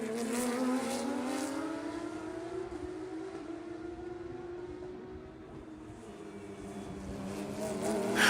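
Porsche race cars at Circuit of the Americas during a Porsche Club of America club race, engines droning and pitching up and down as they pass, the sweeping tone fading and rising again over about eight seconds without any talk.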